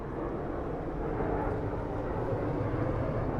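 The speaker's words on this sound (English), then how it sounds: "Don't be looking up there. It's a plane." A fixed-wing airplane passes overhead in London, a low, distant, steady engine drone that swells slightly and holds for a few seconds with no talk.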